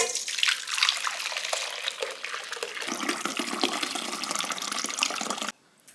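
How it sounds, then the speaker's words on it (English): Fresh juice pours and splashes through a strainer in a continuous close liquid rush that cuts off abruptly near the end. "Now I'm going to strain it, like I said, about 2 or 3 times"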